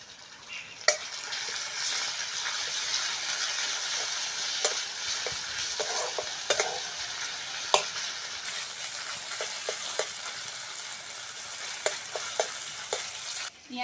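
Cumin paste fries in a pan with onion and green chili, a steady loud sizzle broken by sharp clicks and scrapes of stirring at irregular intervals, with no talk.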